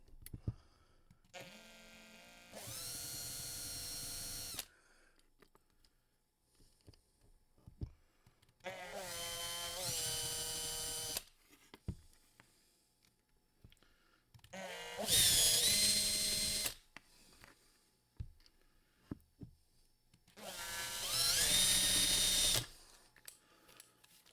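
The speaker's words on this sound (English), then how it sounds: "we always start with the shoulder drilling" A small power drill whines in four separate bursts of a few seconds each, drilling out the wheel posts of a Hot Wheels Redline toy car, close by, with quiet pauses and faint handling noises between them.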